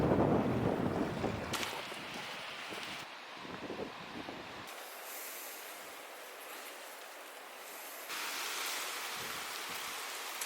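Wind buffets the microphone in heavy gusty rushes as a small boat moves along a lake in Fiordland under paddles raised as sails, the roar rising and falling with faint water wash beneath.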